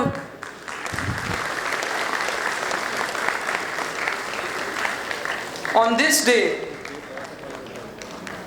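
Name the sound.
convocation audience applauding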